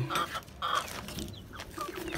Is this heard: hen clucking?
yes